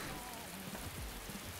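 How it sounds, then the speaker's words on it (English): Rain patters steadily inside a house in the survival video game Dark and Light, a soft, even hiss of drops falling on surfaces, faint and continuous with no voices. "And for some reason, it rains in your house."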